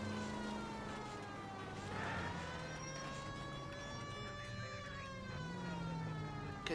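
A police car siren in the video game L.A. Noire wails steadily with rising and falling tones, fairly faint and continuous throughout, with no talk over it.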